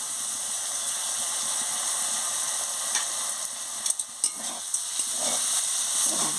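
Mustard paste and chili powder fry in a pan with water added, giving a steady close sizzle with faint stirring scrapes and a few soft pops near the end.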